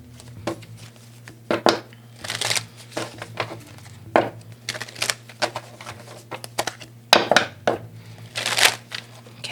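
Tarot cards being shuffled by hand close up, in a string of irregular papery riffles and slaps separated by short pauses, with no voices.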